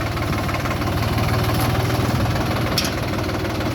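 A heavy Solis 50 tractor weighing about 2900 kg has its engine running with a steady, loud diesel chug and rattling vibration, close by and alone.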